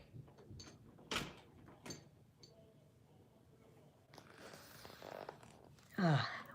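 A door handled indoors at home: a few sharp knocks and clicks, a longer scraping slide, then a louder rasping sweep near the end, all fairly close with a voice faintly in the background.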